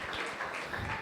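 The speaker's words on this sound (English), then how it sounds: "Give a round of applause for the March birthdays." A church youth service audience applauding for the March birthdays, a brief dense burst of clapping from many hands filling the room, with no talk over it.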